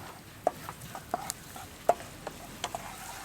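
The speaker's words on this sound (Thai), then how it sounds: "ใส่น้ำมันลงไป ฟับฟับฟับเจียวกระเทียม เจียวกระเทียมก่อนนะครับ" Garlic frying in hot oil in a home kitchen, quiet sizzling broken by several sharp stirring clicks and scrapes at irregular intervals.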